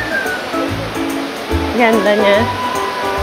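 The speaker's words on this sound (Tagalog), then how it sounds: "We're already here at Dampalit Falls." Continuous rushing water from Dampalit Falls beneath Mt. Makiling, a steady wash with people talking over it nearby.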